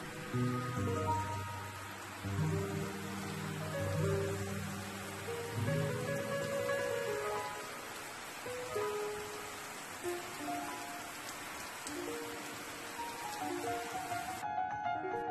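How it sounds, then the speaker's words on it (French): Rain falls outside in a steady, continuous hiss and patter, with a layer of tonal, music-like sound running underneath it through the opening seconds. "au moment où je suis en train d'enregistrer la voix, il continue de pleuvoir."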